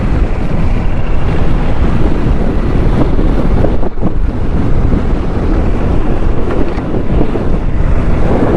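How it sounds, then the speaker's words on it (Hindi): Strong gusting wind buffets a microphone outdoors beside the Malir Expressway road construction, a loud, constant rumbling roar with no voices. "बहुत तेज हवा चल रही है"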